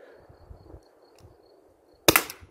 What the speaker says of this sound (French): je vais tirer le troisième coup à 5 mètres